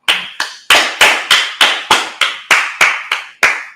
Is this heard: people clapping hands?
yes